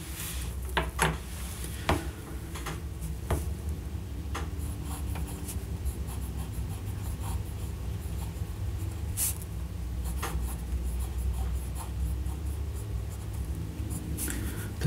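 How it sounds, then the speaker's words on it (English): A Parker Vector XL fountain pen with a medium nib writes on a dot-grid pad, giving a continuous close scratchy scrawl with small taps and lifts between strokes, and no voices. "I think it's time we do a writing sample with this pen"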